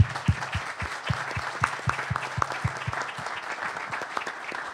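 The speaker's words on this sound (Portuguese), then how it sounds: "Eu acho que ele merece uma salva de palmas." Audience applause fills a hall at the opening of a Brazilian hospitalist medical congress, with steady moderate clapping in the near field and some sharp individual claps standing out, continuing throughout.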